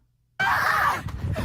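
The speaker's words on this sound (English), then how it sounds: "your screaming's a little loud" A loud, sustained scream bursts out suddenly after silence, close and harsh, trailing off into rougher breathy noise.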